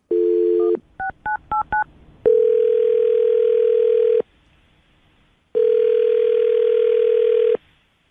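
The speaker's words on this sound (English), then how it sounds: "I'm going to dial the phone number right now." Telephone call placed from a morning radio show studio: a steady dial tone, then a quick run of touch-tone keypad beeps, followed by two long, even ringback tones separated by silence.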